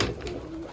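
Pigeons kept in a loft by an Iraqi pigeon fancier in Germany, with a soft low coo sustained through a short moment, close by and fairly quiet, with no talk.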